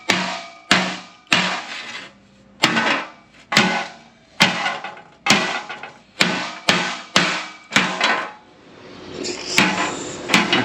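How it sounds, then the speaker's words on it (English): A hammer strikes a metal oil pan on an off-road buggy in a run of about sixteen sharp, ringing blows at an uneven rhythm, each trailing off briefly, close and loud. "So now we're going to touch it inappropriately with a hammer."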